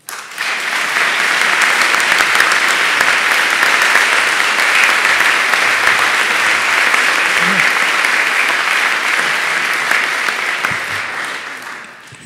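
Sustained, dense applause from a convocation audience welcoming Dr. Larry Arnn at Spring Convocation, steady and loud for about eleven seconds before tapering off at the end.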